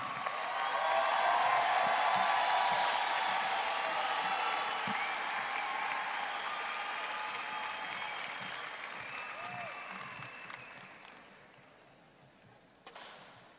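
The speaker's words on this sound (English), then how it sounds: "let's give another nice round of applause for Jay Parry" Audience at a retirement ceremony clapping, a dense sustained round of applause that swells early, holds, then gradually fades, with a faint voice and a brief thump near the end.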